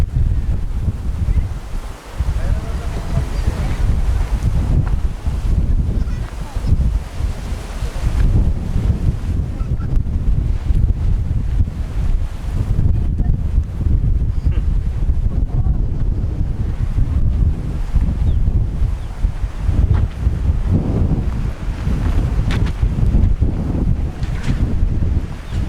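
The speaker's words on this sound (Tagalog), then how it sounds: "Lakas ng hangin." Strong wind roars and buffets the microphone continuously while riding a Honda ADV 160 scooter along a coastal road in the northern Philippines, a loud, gusty rumble that swells and dips without letting up.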